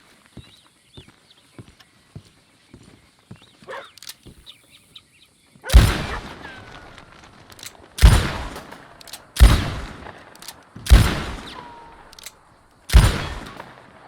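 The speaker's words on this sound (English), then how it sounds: "Have you tried shooting the tail of a wind pump?" Gunshots strike the tail of a wind pump in Red Dead Redemption 2: five sharp, loud reports spaced a second or two apart, each followed by a metallic ring, after quiet ambience with faint ticks and bird chirps.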